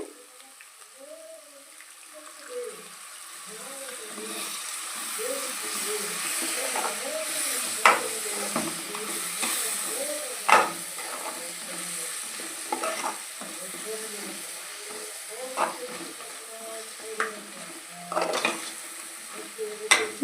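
Curd stirred into a sizzling pan while making egg biryani, with repeated close scraping strokes and a soft hiss, a few sharper clinks standing out near the end.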